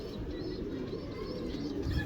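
Pigeons kept by a pigeon fancier coo softly and continuously against a dense, steady background murmur, with no clear individual calls standing apart.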